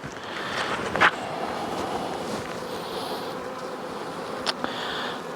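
Honey bees buzz steadily close by while a hive is sampled for mites, a continuous droning hum with a couple of brief louder passes near the microphone.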